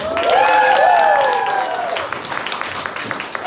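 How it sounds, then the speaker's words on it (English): An audience at a live show applauds for a couple of seconds, with a loud voiced whoop or cheer riding over the start before the clapping carries on alone. "Round of applause"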